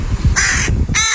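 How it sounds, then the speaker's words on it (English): A crow perched on a car roof caws twice in loud, close, harsh bursts over a low rumble of background noise. "The bird is on top of this guy's car every single morning and just makes noise at him every single time it sees him"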